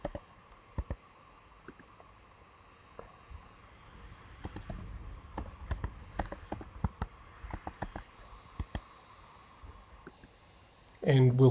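Quiet, scattered key presses on a computer keyboard, with single taps and short clustered bursts of clicking over a low room hum, ending in a brief louder noise.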